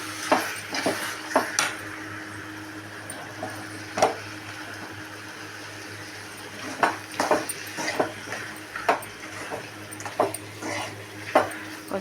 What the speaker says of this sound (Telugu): అంటే టమాటా ఉడుకుతుంది.